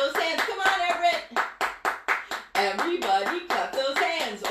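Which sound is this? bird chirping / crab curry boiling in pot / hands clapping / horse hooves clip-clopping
hands clapping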